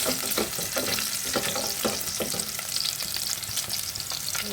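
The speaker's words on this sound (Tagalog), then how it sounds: "Now I saute the chicken." Chicken sautéing in a pan for Filipino-style sopas, a steady loud sizzle with repeated scraping stirs cutting through at an uneven rhythm, close up with no voices.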